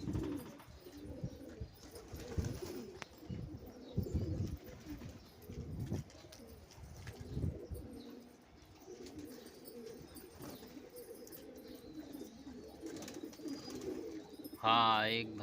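A Kasni Bhawra pigeon coos in low, repeated soft phrases, fairly faint and close, with quiet background noise and a brief louder sound at the end.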